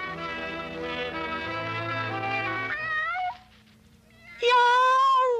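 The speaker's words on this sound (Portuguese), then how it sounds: "Eu sou aquele faminto gatinho. Estou morrendo de fome. Miau! Miau!" A hungry cartoon kitten in a Woody Woodpecker cartoon sings a drawn-out, wavering meow in an exaggerated cartoonish voice, followed after a brief dip by a second loud, stretched meow.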